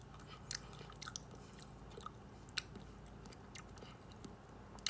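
Soft, close chewing and crunching of something unpleasant-tasting, with scattered crisp bites and squishy mouth sounds over a steady low background hiss and no talking.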